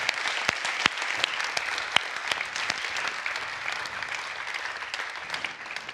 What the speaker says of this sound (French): Je vais vous proposer qu'on s'applaudisse.